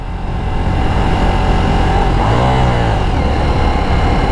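Ducati Diavel V4 motorcycle engine running loud and steady up close, with a brief rising-and-falling rev swell midway, under wind rush while riding.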